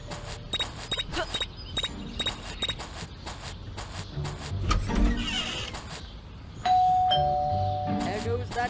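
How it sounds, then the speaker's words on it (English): A doorbell in the video game Scary Teacher 3D chimes in a repeated pattern amid footsteps and game sounds, with a voice talking over parts of it. "There goes that stupid bell again."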